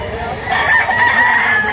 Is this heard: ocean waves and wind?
no